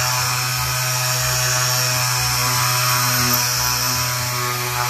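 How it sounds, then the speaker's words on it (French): An electric random orbital sander runs steadily at close range, a loud continuous motor whine with buzzing vibration that stays constant throughout. "Et voici comment utiliser une ponceuse vibreuse."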